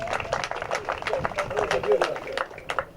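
An audience claps at a football academy summer camp ceremony, with rapid, scattered hand claps at moderate loudness that keep up steadily. A voice can be heard talking faintly underneath.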